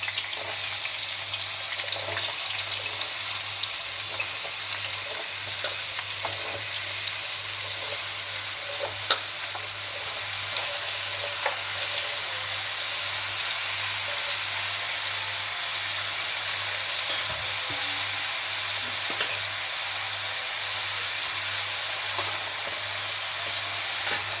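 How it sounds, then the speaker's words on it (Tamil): Pirandai (adamant creeper) fries in hot oil with a continuous, fairly loud sizzle and hiss, nearby, with scattered small ticks and scrapes of stirring throughout and no talking. "இப்போ எண்ணெய் சூடாயிடுச்சு. இப்போ இந்த பிரண்டை எல்லாத்தையும் இதில் போடுறேன்"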